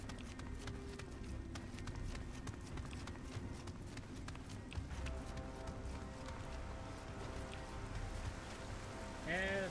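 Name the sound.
pouring rain in the video game Nioh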